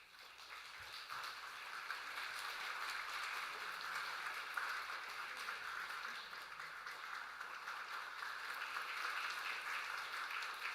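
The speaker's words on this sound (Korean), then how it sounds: "우리 전달할 때 큰 박수로 격려하도록 하겠습니다" Long, even applause from a church congregation during a Sunday service, a steady wash of clapping that holds at moderate level throughout, somewhat distant.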